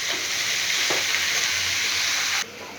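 Vegetables for chowmein sizzle steadily in a hot pan with a faint sugar seasoning, a continuous close frying hiss with a brief stir clatter, cutting off near the end.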